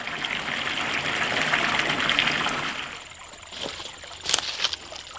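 Water gushes from a large hose into a container at a winter well house for animals, a loud steady rush that fades and thins after about three seconds into lighter splashing and trickling.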